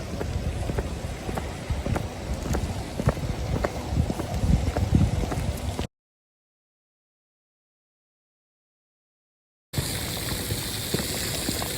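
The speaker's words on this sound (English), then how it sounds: "it has started raining again" Steady rain falling outdoors at a children's park in Zaragoza, Spain, a continuous dense hiss of drops with some wind rumble, cut by a few seconds of complete silence before resuming.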